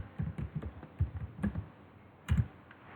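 Quick bursts of keystrokes on a computer keyboard, close and clear, with short pauses between clusters of clicks and no talk.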